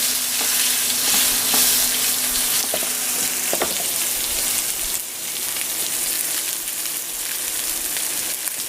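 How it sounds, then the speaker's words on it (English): Wagyu beef sears in a very hot pan, a loud, steady, close sizzle with crackling spits that continues the whole time without talk. "So this is searing the outside"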